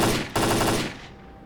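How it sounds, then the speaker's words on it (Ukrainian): Automatic gunfire in the S.T.A.L.K.E.R. Clear Sky shooter: a loud, dense machine gun burst with a brief break, then a sustained stream of shots that fades into a softer tail, with no talking. "По кому вони стріляють?"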